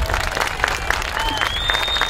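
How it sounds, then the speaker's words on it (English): A campaign kickoff crowd applauds in dense, sustained clapping with a few sharp individual claps standing out and faint whistles or voices mixed in. "Let's give her a big round of applause."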